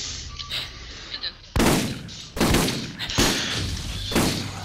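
Several loud shotgun blasts from a Borderlands video game go off in quick succession, each with a sharp crack and a decaying tail, up close amid background game noise.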